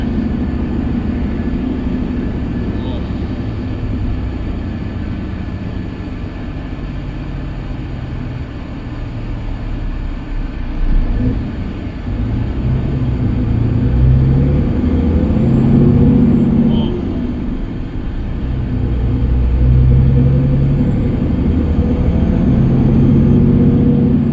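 An MCA 14.5 m coach bus repowered with a GM Series 60 diesel engine drones steadily and loudly throughout, swelling in places as it works harder.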